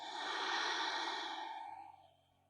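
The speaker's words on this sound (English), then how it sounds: "Breathe out." During a seated cross-legged yoga pose, a long, audible exhale is breathed out close by, starting full and breathy and fading gradually to quiet.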